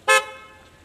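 A car pulling up at a busy birthday party gives one short, loud honk of its horn, a bright harmonic toot that fades quickly into the low background.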